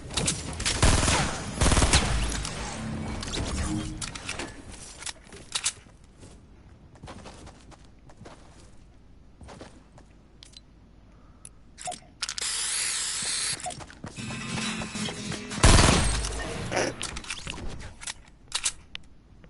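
Video game gunfire crackles in dense bursts and volleys, loud and close, with quieter gaps between flurries and a heavy blast near the end.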